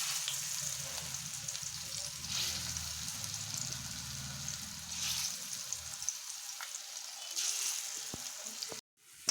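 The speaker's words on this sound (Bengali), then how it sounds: "এবার আমি পেঁয়াজিগুলো ভেজে নেব।" Onion fritters (peyaji) sizzle steadily in hot oil, a continuous soft frying hiss with a low bubbling undertone that fades near the end before a brief clunk.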